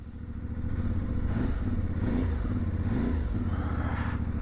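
A CFMOTO 450MT motorcycle engine revving, loud and close, with a steady throbbing drone that rises and falls in several swells, kept under 4,000 RPM.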